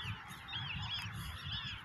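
Birds call from a village pond with a busy, continuous stream of honking, goose-like cries at moderate distance, no voices over them.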